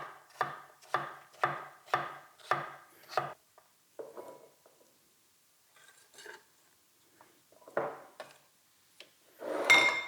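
Knife chopping vegetables into small chunks on a cutting board while preparing a Danish barbecue potato salad: six sharp, evenly spaced chops, then a pause with scattered light clatter and scraping, ending in a louder rustle.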